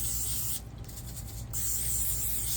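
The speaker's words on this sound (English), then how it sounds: "I'm going to spray a little olive oil on" A short hiss of olive oil spraying onto parchment paper lasting about a second, close by, over a steady background hum.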